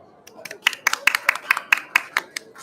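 A handful of people clap in a short, fairly steady rhythm at a conference panel, sharp and close, with a few quiet voices underneath.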